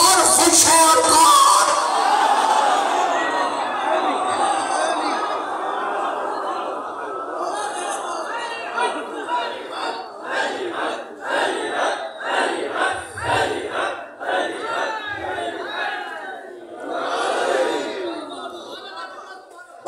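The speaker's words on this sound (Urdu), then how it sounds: "اب نعرے آپ لگا چکے" Crowd at an imambargah gathering chanting religious slogans, loud massed voices in rhythmic bursts that rise and fall, with a strong surge near the end.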